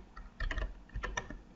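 Keys on a computer keyboard are tapped in two short, quiet bursts of quick clicks, close up and with no talking.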